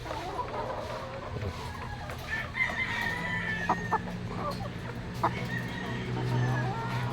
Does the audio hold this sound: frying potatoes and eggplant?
no